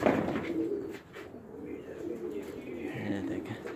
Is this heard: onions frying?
no